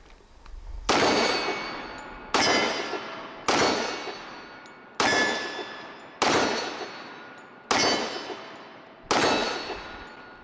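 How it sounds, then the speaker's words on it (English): Seven evenly spaced 10mm pistol shots from a Kimber Rapide 1911, each a sharp crack followed by a ringing clang of steel targets at 15 yards, with decaying tails between rapid shots. "I'm gonna just go from target to target at the 15 yard targets in front of me with a 10mm Rapide."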